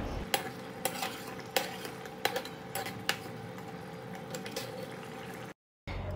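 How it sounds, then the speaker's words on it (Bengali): Beef haleem made from a ready mix is stirred in a pot once the lid is lifted: a spoon scrapes and clinks in an irregular rhythm over a soft simmering sizzle, close by, with a brief silent gap near the end. "ঢাকনাটা উঠিয়ে আমি মাংসটা নেড়েচেড়ে দেখে নেব এটা নরম হয়েছে কিনা"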